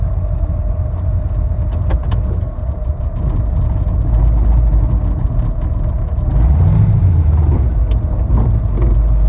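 A 1934 Ford three-window coupe with a throttle hesitation runs loud and close, its low engine rumble holding steady before a surge partway through, with light metallic rattles over the top.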